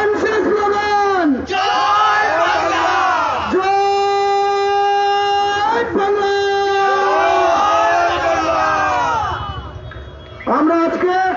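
A street procession of marchers by a railway gate in Duttapukur, North 24 Parganas, chants slogans in unison. Loud, close call-and-response shouts repeat in rhythmic bursts, with brief pauses between phrases.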